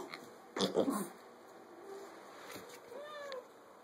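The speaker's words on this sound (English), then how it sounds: "There's a new kitty in your room." A cat meows softly in a room where mini pigs are kept, a short rising-and-falling call near the end after a brief louder rustle, fairly faint against quiet background.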